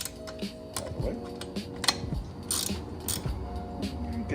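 A 15 mm wrench snugging a fastener on an MX350 motorcycle wheel during a tire change, giving close, irregular metallic clicks and ratcheting ticks with light clanks over about four seconds.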